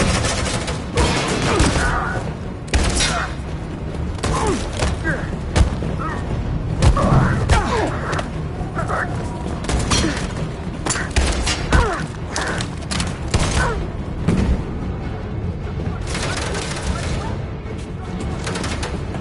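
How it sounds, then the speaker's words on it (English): Sustained gunfire in the video game Detroit Become Human, dense bursts and booming impacts layered over continuous battle noise, with shouted voices mixed throughout. "Suppressing fire!"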